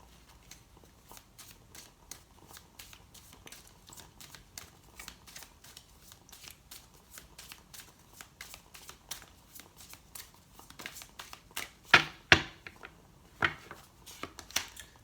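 Tarot cards being shuffled in a dense run of soft riffling flicks, growing louder with several sharp snaps near the end, heard alone without talk.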